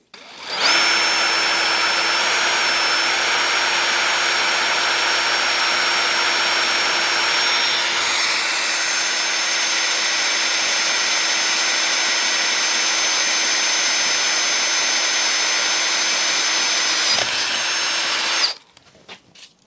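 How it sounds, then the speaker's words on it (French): A Dewalt DCD709 drill driver runs at speed setting 1, boring through metal lubricated with cutting oil: a loud, steady whine holds for about eighteen seconds with a slight shift partway through, then stops abruptly. "je viens de me mettre en position 1 au niveau de la vitesse, hein, pour éviter de percer trop vite"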